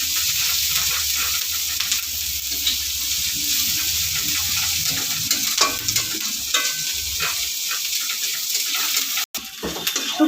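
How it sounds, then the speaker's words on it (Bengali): Chopped onion frying in a pan for a chilli capsicum pasta, with a steady close sizzle and spatula stirring and scraping throughout, no voices. "তো পেঁয়াজটা দিয়ে একটু পেঁয়াজটা ভেজে নেব।"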